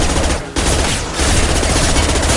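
Dense, continuous automatic gunfire in Mass Effect combat, loud sustained rattling bursts with a couple of brief dips, close and dominant.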